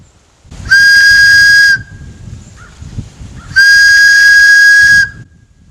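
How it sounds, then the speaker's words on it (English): Two long, steady high-pitched whistle blasts from a small handmade whistle, each about a second long, separated by a short pause with faint background noise. "Sounds like a whistle."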